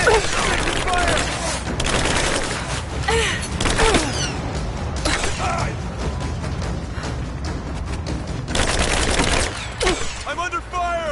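Dense bursts of automatic gunfire crackle continuously through a Tomb Raider video game battle, loud and close, with shouted voices heard over the shooting.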